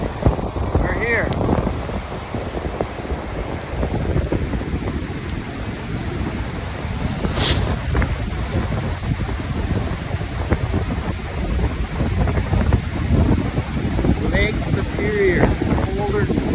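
Strong wind buffeting the microphone on a Lake Superior sand beach, a loud, constant roaring rumble with surf washing underneath and a few faint thin squeaks, no talk heard.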